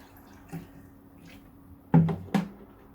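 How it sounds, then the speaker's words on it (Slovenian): Water drips through a home water filter as a few sparse, soft drops and splashes, with two closer, clearer drips near the end over a quiet indoor background. "Lila voda tu na vrhu in ko gre skozi filter."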